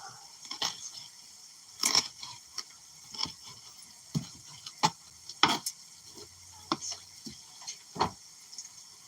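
A knife dices fresh cilantro on a board in a home kitchen, giving a run of irregular sharp taps and chops, some close and crisp, others softer, with no talk.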